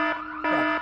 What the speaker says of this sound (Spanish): ¿Por qué está sonando la alarma?